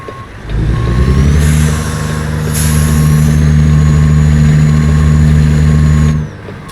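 A heavy truck engine in American Truck Simulator drones steadily with a beeping tone and a hissing air release, the revving wheels spinning under load for several seconds before cutting off.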